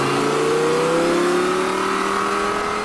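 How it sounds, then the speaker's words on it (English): An Audi R8 V10 engine revs, its loud, smooth tone climbing steadily in pitch as it accelerates, heard alone without voices. "But this one sounds pretty good."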